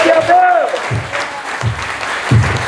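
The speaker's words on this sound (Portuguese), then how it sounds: "Você pode aplaudir o meu Deus lá em cima." A church congregation claps during a worship service, breaking into scattered applause bursts mixed with voices and a sustained tone, moderately loud in a resonant hall.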